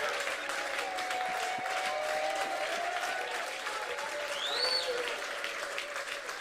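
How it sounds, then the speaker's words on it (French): A church congregation claps and acclaims together, a steady wash of applause with voices and occasional shouts mixed in, including a brief rising cry near the end, moderately distant and fairly even throughout. "donnons une acclamation au Seigneur"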